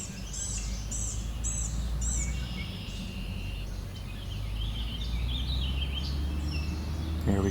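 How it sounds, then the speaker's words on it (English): Warbling vireo singing outdoors, a quick run of bright warbled phrases in the first two seconds and fainter notes later, heard at a distance over steady low background rumble and insect hiss. "There we go, just caught warbling vireo."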